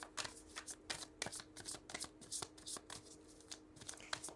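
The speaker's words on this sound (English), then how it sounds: "We're going to shuffle anyway." A deck of playing cards is shuffled by hand, giving a quick series of soft riffling bursts close to the microphone, fairly quiet and with no talk.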